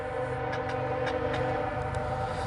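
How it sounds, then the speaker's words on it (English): A loaded CSX coal train rolls past on the track, a steady close rumble of wheels and cars with a horn sounding throughout, no voices. "Coal train on right you at track 1."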